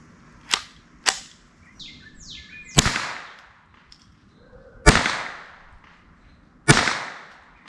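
Five sharp, loud rifle shots from a Bear Creek Arsenal BC 201 bull-barrel rifle firing Federal American Eagle 38-grain ammunition, spaced unevenly a second or two apart, each cracking then ringing out over quiet outdoor ambience.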